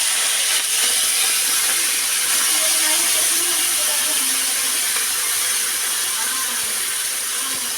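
Prawns coated in salt and turmeric fry in hot oil in a wok, producing a loud, steady hiss that fills the whole clip with no talking.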